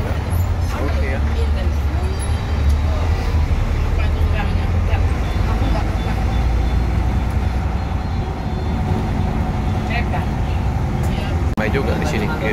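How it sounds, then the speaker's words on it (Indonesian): Buses and other vehicles in busy Indonesian road traffic, including Sugeng Rahayu and tourist buses, make a steady, loud engine and road roar throughout, with people talking over it. "Ramai juga di sini, kiri kanan bus-bus."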